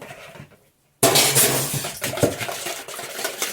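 A whisk beats eggs and milk quickly against the side of a bowl, a fast clattering, scraping rhythm close up after a brief moment of near silence.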